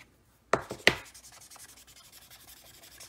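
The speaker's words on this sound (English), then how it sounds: "I'm cleaning off my blender pen." A blender pen wiped clean on a cloth or paper, two quick sharp rubbing strokes followed by a steady soft scrubbing texture, close and quiet with no talk.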